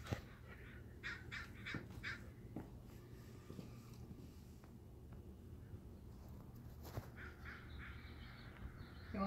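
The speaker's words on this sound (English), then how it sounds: "He wants to catch the crows." Crows caw in scattered calls at a distance outdoors, faint among background noise, while a husky puppy chases chickens nearby.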